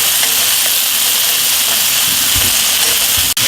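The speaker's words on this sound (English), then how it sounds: "I'm going to get the garlic in there so we can get down in the pan and start to brown up a little bit" Garlic sizzling in a hot pan, a loud, steady, close hiss that runs unbroken throughout.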